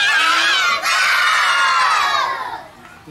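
A group of young children shouts loudly together in one sustained collective yell at a kids' fun event, tapering off near the end.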